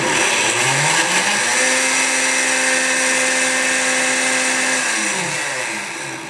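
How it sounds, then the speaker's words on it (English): A blender with an Alterna One Cup Mason Jar adapter purées apple and pear into a baby smoothie. Its motor whirs loud and steady with a ringing tone, then trails off slightly near the end. "never take it off while the blender still blends"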